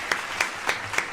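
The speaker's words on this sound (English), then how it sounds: "we have to give a huge round of applause to what September has brought us" Short burst of canned applause dropped into a breakfast radio show, four quick rhythmic swells of clapping over about a second, moderately loud and without voices.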